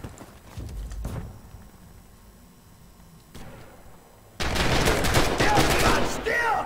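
Gunfire from a competitive online shooter match, Allies attacking, erupts as a dense, loud burst of rapid shots in the final seconds after quieter stretches with scattered footsteps and clatter.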